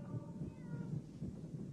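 A cat meows in the 1979 science-fiction horror film Alien, a brief, moderately faint cry over a low, rumbling background.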